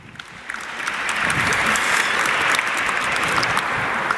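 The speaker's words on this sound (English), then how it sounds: "Was that clap for me?" Audience at a talk on ending racism breaking into applause that swells over the first second, then holds as a steady, dense clatter of many hands.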